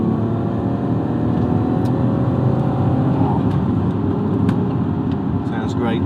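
A Rover 75 engine hums and revs steadily while driving on the road, a continuous loud drone with a slight rise in pitch, with voices talking over it.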